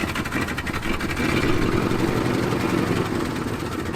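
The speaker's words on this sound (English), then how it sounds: "It's running now. It's idling. Not idling great, but it's idling hands off," A 1974 Ford F-250 Highboy truck engine idles roughly nearby, a steady low rumble with a slightly uneven pulse, heard alone.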